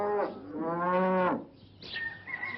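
A frightened young calf moos in a short call, then a long strained bellow, followed by a weaker, rougher cry; close and loud with no talking.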